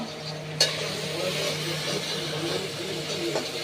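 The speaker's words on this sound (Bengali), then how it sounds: "আদা, গোলমরিচ গুঁড়ো, কাঁচা লঙ্কা, ঘি, সাদা তেলে নেড়ে নিলাম।" Spoon stirring ginger, ground black pepper and split green chilies in ghee and white oil, a soft continuous sizzle with a sharp scrape of the utensil early on, heard close and alone.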